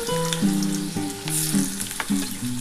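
Potatoes with five-spice frying in hot oil in a pan, giving a steady crackling sizzle throughout, partly masked by a stepped background melody.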